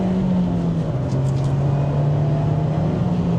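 An Abarth 124 Spider engine drones loudly and steadily on a test drive, its pitch sinking slightly then holding under constant road and cabin noise.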